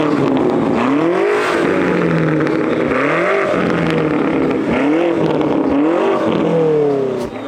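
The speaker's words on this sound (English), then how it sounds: "there was a G90 M5 next to us showing off its exhaust setup" A BMW G90 M5 hybrid fitted with an aftermarket exhaust revs repeatedly nearby, loud engine notes rising and falling in several bursts at a drag racing event.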